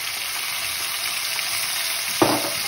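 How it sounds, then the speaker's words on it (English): Browned onions for a British Indian restaurant-style chicken biryani fry in a pan with a steady close sizzle, rising into a brief louder hiss near the end as they are stirred or added. "Right, let's get the onions in."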